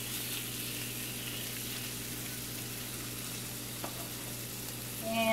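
Shrimp sizzle in a skillet with garlic, a steady, moderate frying hiss that carries on evenly, with a faint clink near the end.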